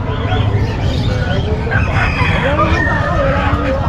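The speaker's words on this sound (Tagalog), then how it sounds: "Sama-sama na yung mga manok dito." Chickens and roosters crow and cluck among other poultry, goats and birds at an outdoor pet market in Bocaue, with steady crowd babble and shuffling noise around them.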